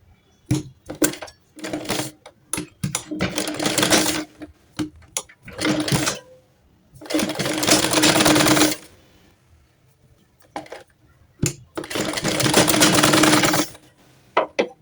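A sewing machine stitches piping onto a baby frock in several loud close bursts of rapid running, broken by pauses, short clicks and handling noises.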